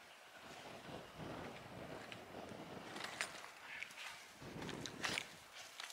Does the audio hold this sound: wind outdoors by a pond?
yes